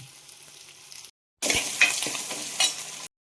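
Onion and ginger fry and are stirred in a pan, a crackling sizzle with spoon scrapes, cut by a short silent gap and then returning louder before stopping abruptly; no speech.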